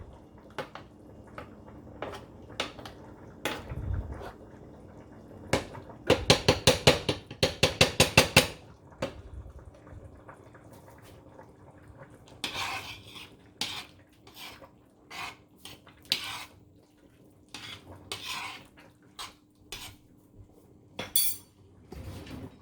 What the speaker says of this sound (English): I was over here just stirring my pasta